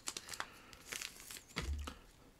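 A trading card pack bought on eBay is torn open, with close crinkling plastic wrapper and a few sharp tearing rips, followed by a soft thump.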